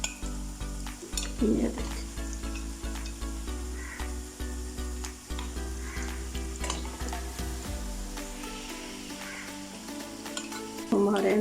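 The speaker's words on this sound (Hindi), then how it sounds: "हमारे हरे भरे से नगट्स फ्राई हो गए" Hara bhara vegetable nuggets frying in a pan, a steady close sizzle running throughout with occasional clinks and stirring, while a voice speaks briefly near the start.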